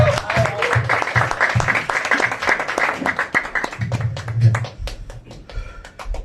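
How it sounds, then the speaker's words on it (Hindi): Audience clapping at a stand-up comedy show, sharp individual claps building into an uneven burst that thins toward the end, with a voice talking underneath at times. "स्टार्ट क्लैपिंग गाइस, मस्तान भाई की ताली बजाओ"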